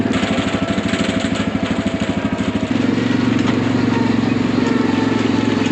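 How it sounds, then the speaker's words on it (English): A four-wheeler engine chugs steadily while towing a wagon at a stable, with a loud, close rhythmic putter whose tone shifts partway through to a smoother, denser drone. "It's trailering behind the four-wheeler so nicely."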